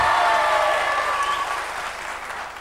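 A studio audience on a Belgian television quiz applauds in support of a contestant, a loud burst of clapping that slowly tapers off, with a sustained tone sounding above it.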